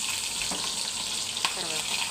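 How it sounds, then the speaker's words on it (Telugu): Green chillies fry in hot oil in a pan with a continuous close hiss, and a couple of brief stirring clinks sound over it. "ఇప్పుడైతే పచ్చిమిరపకాయలు వేస్తుంది,"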